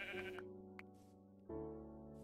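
A Minecraft sheep bleats in two clear, wavering calls separated by a brief gap. The sound is close and stands alone, with no talk.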